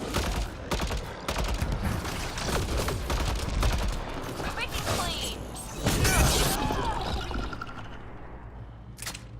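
Rapid weapon fire in Mass Effect: Andromeda aimed at an assembler: dense, sustained bursts of shots with mechanical clatter and crunching impacts, steady throughout and swelling near the end.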